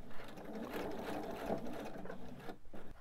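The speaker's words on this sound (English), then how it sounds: "going to begin off my piece and then sew up my line" A sewing machine stitching fabric for a purse's back lining, a fast continuous mechanical whir at close range that stops near the end, with no talk.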